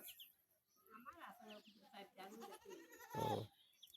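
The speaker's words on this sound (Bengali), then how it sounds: "এই দেখেন কত সুন্দর ছাগলগুলো" Native goats on a village goat farm bleat several times in wavering calls, with a louder, closer bleat near the end over light background farm noise.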